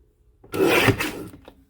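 A paper trimmer slices through patterned print paper and dark green cardstock at 11 3/4 inches in a card-making workshop, giving one close, brief rasping cut of about a second, with no talking.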